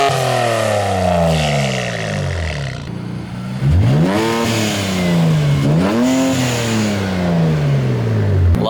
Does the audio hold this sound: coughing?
no